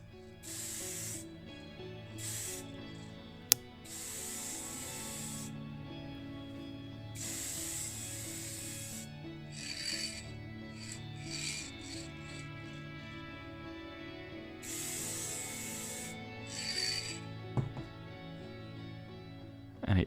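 Bursts of black Vallejo primer spray onto a Hot Wheels 1969 Chevrolet Chevelle model car, several hissing blasts of a few seconds each separated by short pauses, close and steady over a low background hum.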